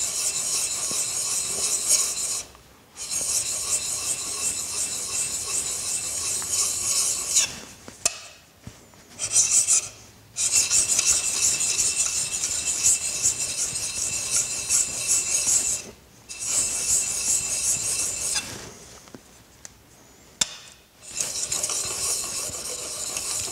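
A skew chisel bevel is worked in circular motions on a sharpening stone, giving a steady, close, rasping scrape that runs continuously and stops briefly several times, with no talking.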